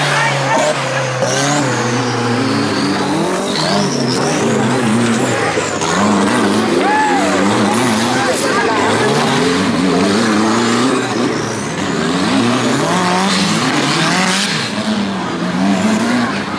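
Rear-engined off-road racing buggies whine and rev up and down continuously, loud and close, with tires squealing and a voice commentating in Thai over the din at an off-road race in Thailand.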